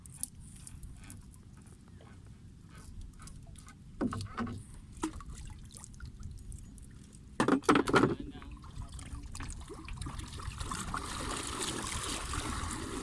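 Strong river current rushing during a typhoon, a steady low wash of flowing water with occasional splashes and knocks, voices faintly in the background.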